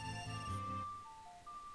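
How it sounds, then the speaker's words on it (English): A mobile phone ringtone plays a bright tonal melody with rich harmonics that cuts off, followed by a few faint thin beeps, heard fairly quietly with no talk. "My phone is ringing?"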